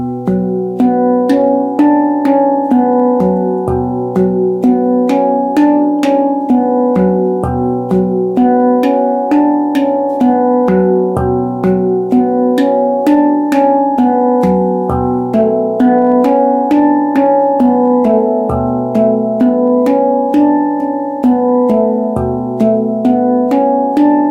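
Handpan played in a slow meditative, flowing pattern, steady resonant metallic tones struck one after another with long ringing sustain, close and clear, no talking throughout.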